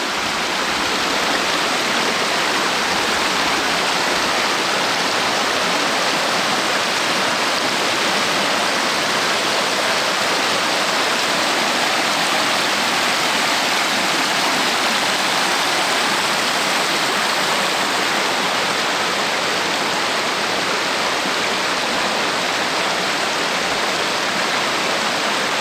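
A small mountain creek on a hike near Wenatchee rushes steadily, a dense, even wash of water that continues unbroken and close by, with no voices.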